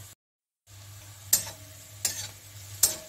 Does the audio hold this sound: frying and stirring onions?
yes